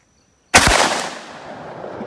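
A single thunderous blast from a 10 gauge shotgun firing a heavy socket slug at an outdoor range, starting sharply after a moment of silence and trailing off in a long rolling echo.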